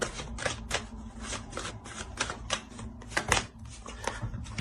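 Tarot cards being shuffled and laid out on a table, a run of quick, crisp riffling flicks and soft slaps in irregular bursts, close and fairly quiet with no talking.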